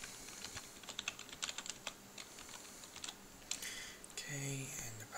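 Typing a password on a computer keyboard: a short run of quick, light key clicks at close range, ending with a firmer keystroke, while a voice speaks briefly near the end.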